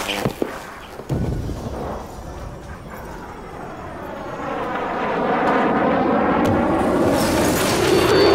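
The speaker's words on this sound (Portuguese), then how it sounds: "esse avião é muito sinistro, saca desse avião" Airplane in the survival video game The Forest, a jet-like engine roar building steadily from a few sharp knocks into a loud, sustained drone that dominates the scene with no one talking.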